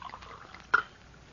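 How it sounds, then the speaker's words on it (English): A glass of water is poured in an old radio drama: one brief, faint splash of liquid, with a quiet room around it. "I'll pour it for you."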